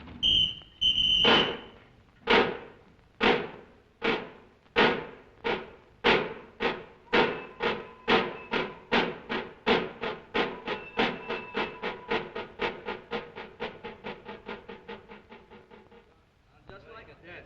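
A voice mimics a steam locomotive pulling away, rhythmic chuffing bursts that start slow and spaced, then quicken steadily and fade, with a whistle-like hiss at the opening.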